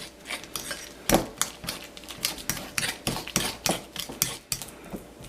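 A utensil beats sugar and other ingredients into a thick paste in a bowl, a brisk irregular run of scraping, clinking strokes close by, with no talk.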